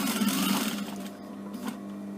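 A sewing machine stitching along a fabric edge, a close steady mechanical whir with a rapid needle rhythm that slows and softens toward the end, with no talking.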